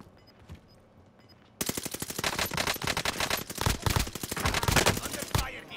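Rapid automatic gunfire from a Rainbow Six match bursts in after a quiet start with faint game beeps, then keeps up dense, loud volleys of shots that only ease off briefly before resuming.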